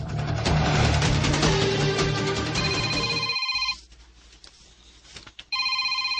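A telephone rings with a steady electronic tone inside a dense, loud drama scene full of music and noise; the scene drops away briefly and the ringing comes back.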